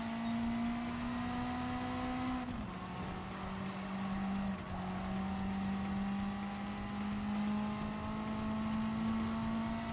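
A race car engine in a racing video game holds a steady high drone, its pitch dipping briefly with a gear shift before settling, continuous and loud with no talking.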